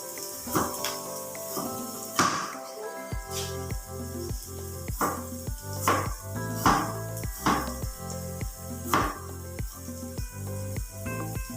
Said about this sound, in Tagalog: Small cubes of potato, yeah. I cut like this.